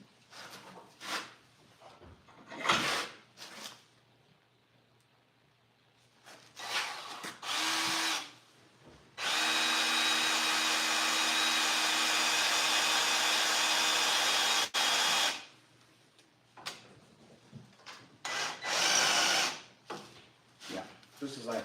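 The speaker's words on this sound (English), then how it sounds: "And drill my holes." A handheld power drill boring holes, running in a long steady whine of about six seconds with shorter bursts before and after, close to the microphone, with pauses and quieter handling noise between runs.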